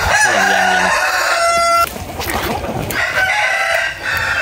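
A rooster crows and hens cluck on a Vietnamese chicken farm in winter, loud and close, the crow's stretched harmonic call opening the stretch before steady clucking and farmyard noise carry on, with no talking.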